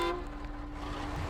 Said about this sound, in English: I honked. You should have gotten out of the way.